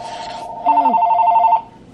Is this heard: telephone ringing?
yes